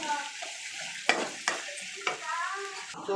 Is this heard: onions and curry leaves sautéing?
yes